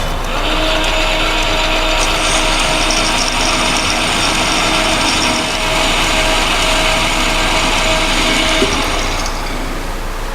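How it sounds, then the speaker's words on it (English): A metal lathe in a student machine shop turns down the outer diameter of a spinning part, giving a steady mechanical whir and hiss with a faint tonal hum that runs throughout and drops off near the end. "dragging the cutting tool along the outer surface of the part so that it reduces the overall diameter as the part spins"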